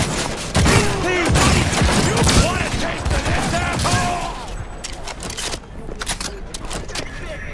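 Heavy gunfire and booming grenade blasts from a Cyberpunk 2077 boss fight against a killer clown, a dense, loud barrage of shots and explosions that thins out toward the end.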